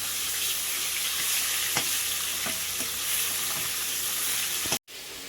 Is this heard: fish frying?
yes